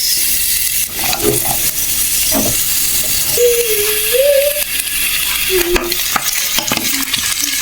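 Steady, loud hissing sizzle of onions frying in a pan, with a few stirring clatters and a faint whistling tone in the background.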